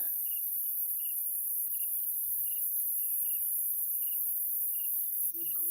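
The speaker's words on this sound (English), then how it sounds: "Bugs song, almost like a line, right?" Crickets and other insects chirp steadily in a repeating, evenly spaced pulse, with a constant high insect hum underneath and a faint brief sound near the end.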